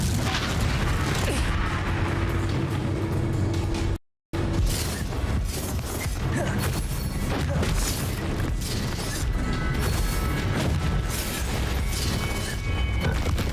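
The Confringo fire-blast spell in the Hogwarts Legacy video game, a dense, loud wash of booms, crackles and crashing impacts that runs almost without a break, broken only by one brief dropout.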